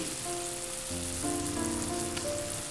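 Coriander, chilli and pepper powders sautéing in a hot pan over low flame, a soft continuous sizzle with faint crackles throughout.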